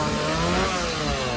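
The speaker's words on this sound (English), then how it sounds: "I definitely hear some chainsaws coming up over here" At the SeaWorld Orlando Howl-O-Scream haunt, a chainsaw engine roars loud and close in one continuous buzzing burst with no talk.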